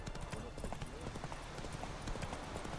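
Hooves of the horse Roach clip-clop steadily at a gallop in The Witcher 3: Wild Hunt, a quick continuous rhythm mixed with game ambience, while a person talks over it.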